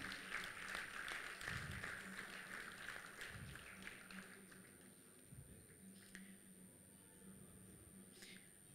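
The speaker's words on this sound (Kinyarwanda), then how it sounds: "Reka tumukomere amashyi." An audience applauds at a speech launch event, a soft sustained patter of clapping that gradually thins out, heard from a distance with faint murmuring underneath.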